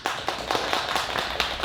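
Applause from an audience gathered at an indoor book concert, a steady patter of many hands clapping at close range, with sharper accents standing out over the dense clatter.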